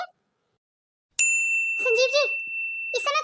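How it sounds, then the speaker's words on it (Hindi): A doorbell chimes once with a clear, sustained electronic ding that rings on under a voice, followed by a second chime near the end. "ये घंटी किसने बजाई?"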